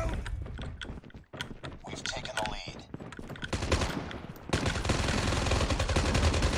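Rapid gunfire from enemy players or bots in a mobile shooter played on BlueStacks, with dense bursts of shots crackling throughout, rising to a loud, continuous barrage in the final seconds, with game noise and some voice mixed in.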